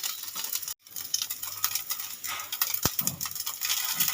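Suji paratha fries in a pan over a medium gas flame with a low, steady sizzle, broken by a brief silence and a sharp clunk of a utensil against the pan.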